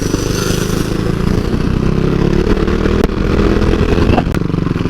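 A KTM RC 390 motorcycle ridden steadily along a street, its engine droning continuously and close by at an even pace, with a couple of brief clatters partway through.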